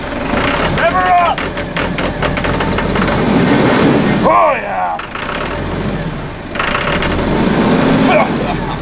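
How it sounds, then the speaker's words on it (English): A truck engine revs and runs loudly and continuously, surging in a couple of bursts, with excited voices shouting over it. "Give her some juice. Rev her up."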